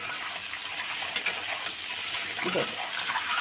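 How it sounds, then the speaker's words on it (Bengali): Egg frying with a little turmeric in a pan, a soft steady sizzle running throughout with a few faint scrapes of stirring near the end. "ডিমটা আমি ভাজা বসিয়ে দিয়েছি তার মধ্যে আমি একটু হলুদ দিয়েছি হলুদ দিয়ে ভাজা করে নিচ্ছি"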